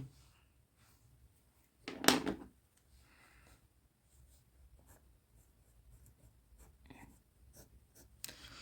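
Writing on a board during an English grammar lesson, faint scratchy marker strokes close up in a quiet room, with one louder knock or scrape partway through.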